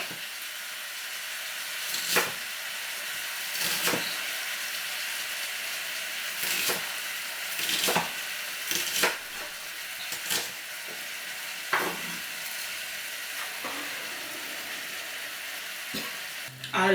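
Chopped onions fry in a pan with a continuous close sizzle, broken by repeated scraping stirs at irregular intervals, with no talk over it.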